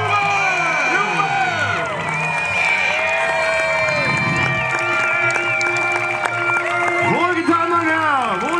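A crowd at a night knights' tournament in Königstein im Taunus cheers loudly and continuously, with whoops and shouts layered over a sustained roar and voices rising and falling throughout.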